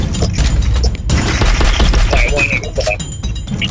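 SMG fire in the Free Fire battle-royale game, loud close bursts of rapid shots rattling across the whole stretch with dense overlapping impacts.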